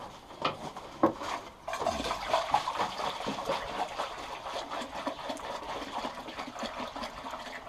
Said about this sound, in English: Pour your sap in.